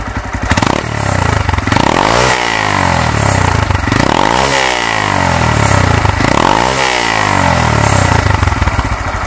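A Honda Grom 125 fuel-injected motorcycle engine with a loud titanium exhaust revs up three times in a row, each rise snarling then dropping back to a rough idle, close by.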